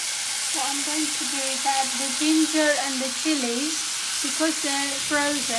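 Ginger and frozen chillies hit a hot pan for a cauliflower and potato curry, giving a steady close sizzle and frying hiss throughout, with a voice speaking over it.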